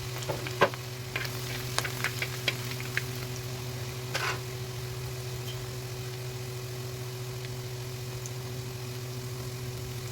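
Shallots, ginger and garlic sizzle softly in a pan under a low, steady hum. A scattering of light clicks and scrapes near the start and middle breaks up the quiet continuous frying.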